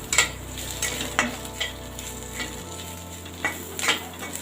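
Crushed kasuri methi and spices roasting in a pan over a medium flame, a soft sizzle with intermittent clinks and scrapes of a spoon stirring, close and fairly quiet.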